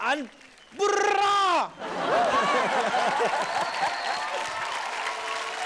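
Loud audience applause with cheering on a TV dance and comedy show, breaking out after a brief bright musical sting and sustained steadily to the end with crowd voices mixed in.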